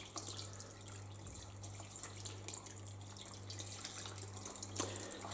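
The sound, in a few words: pouring a litre of water into curry sauce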